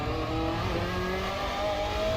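Racing car in a sim racing video game, fitted with a flat-six engine in place of its stated Audi V8, droning steadily at high revs with rising and falling gear tones, loud and continuous with no talk.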